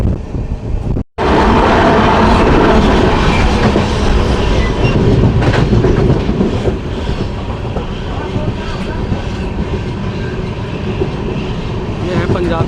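The 14720 Amritsar–Bikaner Super Fast Express runs at speed through Punjab, a loud, constant rumble with rhythmic clickety-clack of wheels over rail joints heard from on board.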